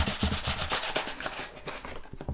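Sandpaper rubbed by hand across a book cover to strip remainder marks and sticker glue, a steady close scratchy rasp in quick repeated back-and-forth strokes, no voices.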